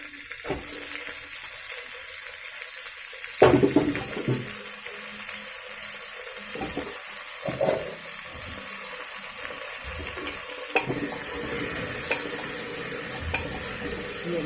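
Capsicum and peas dropped into hot oil, bursting into loud frying with a sharp hiss, then settling into steady sizzling with occasional stirring scrapes and no voices.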